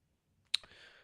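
A single sharp click from a mouse on a laptop, close and crisp, with a short faint rustle trailing after it and no talking.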